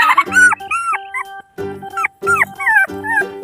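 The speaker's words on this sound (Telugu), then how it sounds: "చూడండి బుజ్జి కుక్క పిల్లలు చూడు" Puppies whimper and yip in high, wavering cries, several overlapping whines close by with short pauses between, in a haystack in a village.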